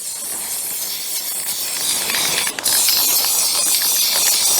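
An aerosol spray can lays a first coat of paint on Ford Fiesta Mk6 headlight parts, a loud, close, continuous hiss with one brief break in the middle. No voices.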